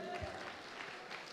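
A congregation at a peace prayer day gathering breaks into brief clapping, muffled and steady under ongoing room noise, with voices present.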